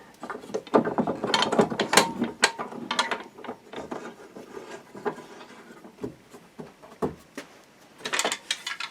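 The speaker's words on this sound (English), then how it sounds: "then we'll just start to tighten up our clamps, just initially just to hold everything together." Clamps are tightened on a glued wooden bass guitar body blank, giving close, loud ratcheting and clicking mechanical bursts with brief pauses between them and no talk.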